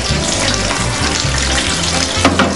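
Cold tap water gushes steadily from a kitchen faucet over drained, cooked spaghetti in a colander, a close, continuous splashing rush with no talk.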